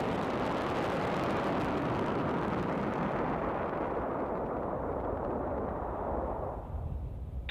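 Falcon 9 first stage engine relit for the landing burn at Landing Zone 4, a loud broadband roaring rumble that holds steady and then trails off near the end.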